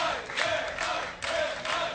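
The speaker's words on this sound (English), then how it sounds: "I don't know what they're cheering for." A live audience at a StarCraft 2 esports match chants in steady rhythmic swells, a loud massed crowd filling the hall and repeating the same call over and over.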